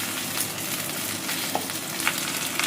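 Fried vegetables for shukto are stirred together in a hot pan, making a continuous close sizzle with occasional faint scrapes and clicks from the spoon.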